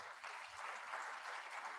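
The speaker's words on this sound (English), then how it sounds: "We can give him a great applause." Audience applause at a memorial lecture, a steady broadband patter of clapping lasting under two seconds, fairly quiet and even throughout.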